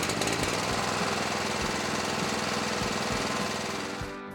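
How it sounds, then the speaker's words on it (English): A hot water pressure washer with wet steam and a Honda GX390 engine runs steadily and loudly, giving a dense, continuous mechanical drone with rapid pulsing that fades slightly at the end. "Get quiet, reliable performance from the Honda GX390 engine."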